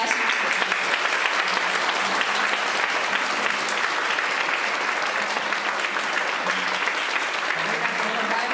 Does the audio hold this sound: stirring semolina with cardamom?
no